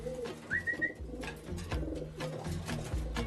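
Domestic racing pigeon cooing near its home loft, soft low coos repeating in a loose rhythm, with a brief whistle-like call and background rustling.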